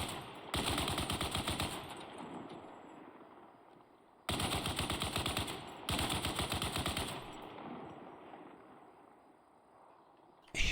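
A vehicle-mounted machine gun firing in Arma Reforger, with three long, steady automatic bursts split by quieter pauses, each a loud rattling string of rapid shots that then fades into a lingering tail.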